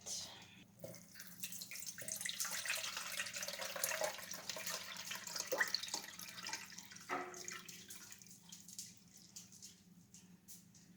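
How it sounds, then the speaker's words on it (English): Elderberry liquid poured out of an Instant Pot and strained, a steady close splashing trickle lasting several seconds before thinning out, with faint speech in the background. "So we're going to pour out and strain what's been in the Instant Pot."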